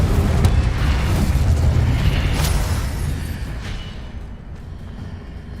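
Incendio fire spell cast in Hogwarts Legacy: a loud, roaring whoosh of flame with deep booming rumble that holds steady, then slowly fades away over several seconds.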